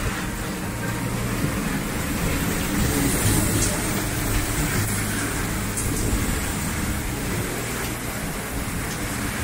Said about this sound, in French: Alors là, pour l'instant, la pluie est à l'horizontale.